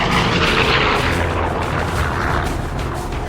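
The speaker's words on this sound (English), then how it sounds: "I rolled the airplane over and stuck the nose straight down" An airplane engine roars loudly and steadily as the plane, at about 25,000 feet, rolls over and dives nose straight down, a dense close rumble with no voices over it.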